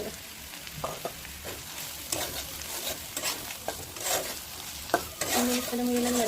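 Spices sautéing in a hot pan on the stove, with a steady sizzle under repeated clattering scrapes of a stirring spoon and a brief electronic beep near the end.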